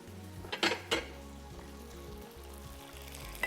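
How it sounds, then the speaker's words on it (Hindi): Spring chicken frying over a high flame, a continuous sizzle with a couple of sharp metallic clanks of a utensil against the pan early on, nobody talking. "तो लिहाजा आपने तेज़ आंच के ऊपर इसको फ्राई करना है।"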